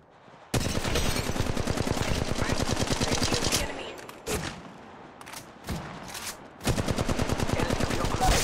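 Rapid automatic gunfire rattles in long bursts during a mobile battle-royale shooter match, with gaps holding scattered single shots and thuds before another sustained burst closes it out.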